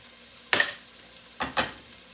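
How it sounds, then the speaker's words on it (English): Minced garlic going into a hot pan, with two or three short sizzling, stirring bursts a second apart, close by, no talk. "so let's put some minced garlic in here"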